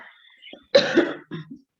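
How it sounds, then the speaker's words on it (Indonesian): A sharp, close cough followed by a second, shorter cough, with a quiet voice murmuring just before. "mohon maaf saya sambil batuk"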